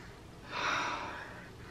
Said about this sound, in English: Let's give this one a little sniff test.